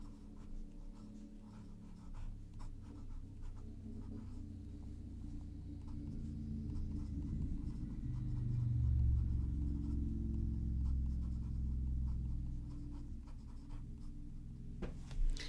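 A Pilot Custom 823 fountain pen with a signature nib scratches faintly across paper in a quiet room, a soft continuous writing rasp over a low background rumble that swells midway.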